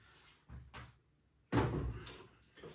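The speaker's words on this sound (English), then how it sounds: "simply grab hold of your keg, slide it into position" A beer keg slid into a Philips Perfect Draft home draught machine: a couple of light scrapes, then a firm thudding knock as it settles into place, close and fairly loud with no talk.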